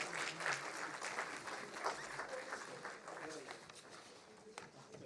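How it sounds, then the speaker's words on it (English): Audience applause at a startup conclave, a fairly faint, continuous wash of clapping from a crowd that carries on steadily and eases slightly toward the end. "Let's give them a huge round of applause"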